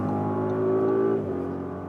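Engine note of a luxury performance SUV, an Aston Martin DBX or Audi RS Q8, pulling hard at highway speed, a steady droning roar with a rising tone that eases off midway, heard from inside the cabin.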